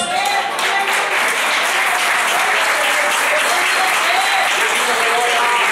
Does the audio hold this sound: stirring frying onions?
no